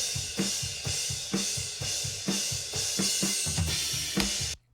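Mixed drum overhead microphones bring out the kick and snare in a steady groove, with hits recurring on a regular beat under bright cymbal wash. The kit plays alone until it stops abruptly at the end.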